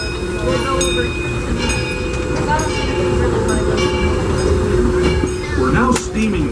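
Disneyland Railroad train rolling steadily along the track, a continuous rumble of wheels and carriages with occasional clicks, voices talking over it throughout.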